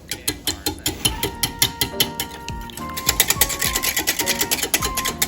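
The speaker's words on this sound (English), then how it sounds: "And I just want to whisk these things." A whisk beats buttermilk in a bowl for banana bread batter. Rapid rhythmic ticking and clicking rings out close up, then speeds up and grows denser partway through. No one talks.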